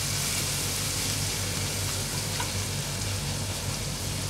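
Freshly grated ginger and garlic sauté in a pan for a drumstick and potato curry, producing a soft, even sizzle that holds steady from start to finish alongside a low hum.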